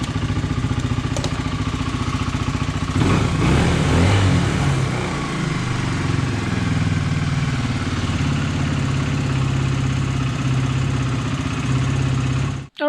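A Honda CBR 125 motorcycle pulled from a junkyard runs after being revived, its small single-cylinder engine idling close by in a steady, rapid putter for about twelve seconds before cutting off abruptly.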